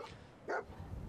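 A dog in the video game Fallout 4 gives one short, fairly faint bark over quiet game ambience.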